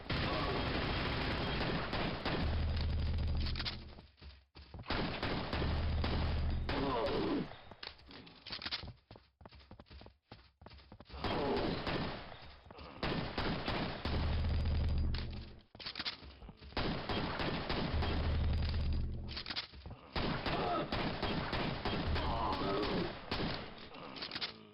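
Pistol gunfire in Quake cracks out in rapid volleys of shots, separated by short quiet gaps, loud and up close.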